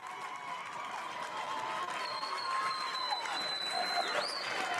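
A crowd at a men's college volleyball match between Erskine College and Reinhardt University applauds and cheers a point, a moderately faint, distant wash of clapping with whistling tones rising over it across five seconds.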